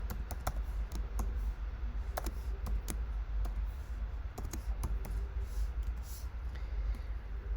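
Fingers typing on a computer keyboard to enter a password, a quick irregular run of close, crisp key clicks over a low background hum.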